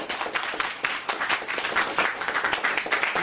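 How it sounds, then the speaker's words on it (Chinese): Seated audience at a presentation breaks into a short burst of clapping, moderately loud and close, dense and uneven, with no talking over it. "给自己跟周围的朋友健康跟有钱的掌声"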